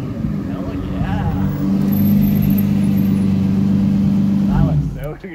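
A Lamborghini Countach's engine idles loudly and is revved in sustained bursts, a steady, close mechanical drone, with people talking over it and a voice breaking in near the end.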